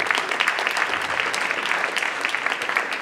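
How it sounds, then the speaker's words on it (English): Audience at the 2013 Intel Global Challenge applauds a judge being introduced: dense, steady clapping from a full room, sustained and even throughout with no voices over it. "Big round of applause for Sean."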